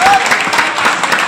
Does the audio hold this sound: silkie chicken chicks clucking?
no